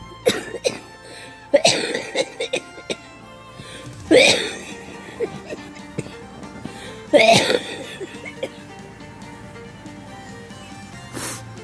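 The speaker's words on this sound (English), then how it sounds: "Coughing fits." Several loud bursts of coughing come in separate fits, each a harsh cluster of coughs, with quieter breathy sounds and throat noises between them.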